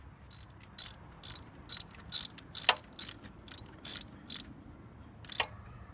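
Ratcheting on the ignition coil pack bolts of a Kia Rio during a spark plug job, a series of about ten short, sharp metallic clicking bursts at a steady, slightly uneven pace, close by over a quiet background.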